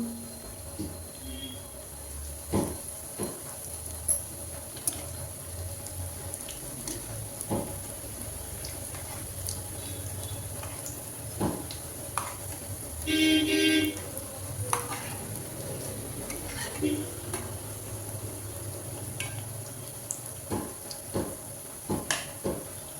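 Pieces of bread fry in hot oil for bread halwa, giving a faint, steady low sizzle with scattered small pops and clicks and one brief louder crackle near the middle.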